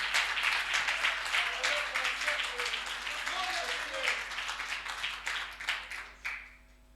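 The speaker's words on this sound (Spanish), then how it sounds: "Dele palmas de alabanza a nuestro Dios" Church congregation clapping in praise to God, a dense, sustained round of applause from many hands that thins into a few scattered claps before stopping at the end.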